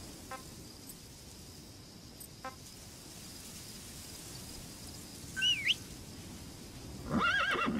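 A horse whinnies in the video game Metal Gear Solid V: The Phantom Pain, a brief shrill call near the end over steady ambient noise, after a few faint chirps.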